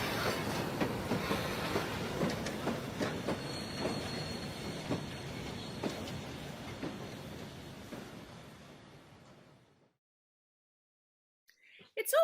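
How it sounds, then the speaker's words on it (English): A train rolls past with steady rumbling and clickety-clack from the wheels, loud at first and then fading away over several seconds into near silence. "There's my train."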